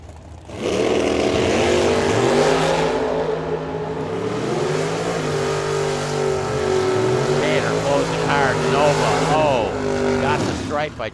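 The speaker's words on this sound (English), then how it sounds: "We got a Camaro against the Nova." A Camaro and a Nova drag race at Firebird Motorsports Park, their engines droning and revving loudly and steadily, with a commentator's voice over the roar.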